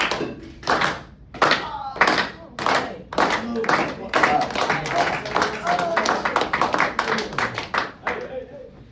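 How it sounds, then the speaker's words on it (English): An audience slow-claps as guests dance off a stage, individual loud hand claps starting spaced apart and quickening into a steady rhythmic run, with voices mixed in. "we like to slow clap until our guests dance their way off the stage"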